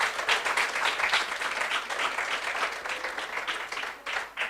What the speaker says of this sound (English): it warrants that we give him another round of applause